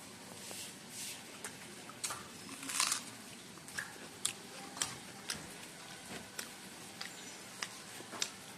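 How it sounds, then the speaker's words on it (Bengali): Paratha is chewed at breakfast up close, with soft, regular clicks and squishes of the mouth roughly every half second and no talking. "ব্রেকফাস্ট করে নিচ্ছি"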